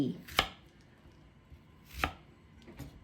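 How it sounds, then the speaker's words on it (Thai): A knife cutting Thai eggplant into quarters on a board for a red curry; three crisp, close chops spaced irregularly in a quiet kitchen. "แล้วก็หั่นเป็นสี่"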